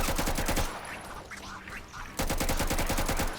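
Rapid bursts of gunfire from a Mount & Blade–style combat game with guns, with a loud run of repeated shots, then a short lull of quieter in-game background, then another dense volley.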